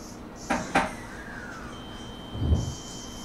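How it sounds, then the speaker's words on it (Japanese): Train doors close in the BVE train simulator game on the Nippō Main Line in the Kagoshima area: two quick clunks, then a soft mechanical tone and a duller thud a couple of seconds later. "ドアが閉まります。 ご注意ください。"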